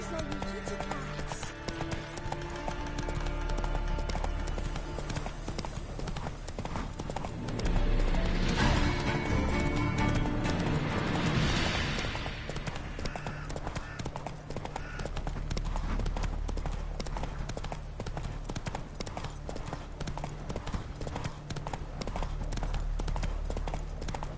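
Hooves clip-clop in a steady galloping rhythm from a horse in a video game, continuing throughout, with a brief whinny and a burst of commotion partway through while voices speak over it.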